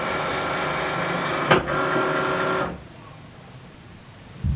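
A Cricut Maker cutting machine draws in its mat with a steady mechanical whir and brief clunk, then stops, leaving quiet room tone before a short knock.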